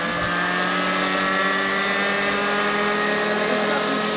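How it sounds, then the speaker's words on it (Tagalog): A Bell 222 helicopter in flight, its steady rotor and turbine drone filling the whole stretch at a constant loud level with a high whine on top. "This is my favorite helicopter."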